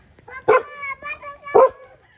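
A Labrador barks a few times at close range, with short, sharp woofs spaced apart.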